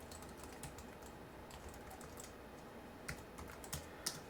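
Soft, quiet key taps on a Bluetooth keyboard patter irregularly at close range over a steady background hiss, with a few sharper clicks near the end and no talking.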